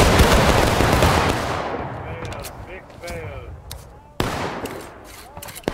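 A volley of muskets fired by skirmish reenactors bursts out loud and close as one dense roaring crack that rolls away, then a second, sharper report follows a few seconds later, with voices calling out in the field between shots.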